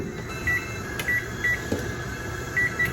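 A microwave oven heating mug cake batter, giving a steady low electrical hum and whir with faint rattles and a few soft high tones, close by with no talking.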